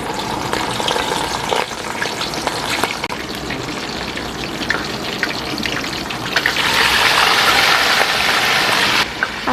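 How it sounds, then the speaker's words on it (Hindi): Chicken sizzling in hot oil in a karahi for a green chicken curry, a steady dense crackle throughout that grows louder and brighter toward the end, with no voices. "अब इसको हल्का सा फ्राई करेंगे हम।"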